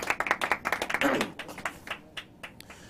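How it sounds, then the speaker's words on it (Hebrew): An audience claps for a speaker at a Hebrew-language storytelling talk, a dense burst of hand claps that thins out and fades over about three seconds. "אם אפשר מחיאות כפיים סוערות על מה שהיה עד עכשיו"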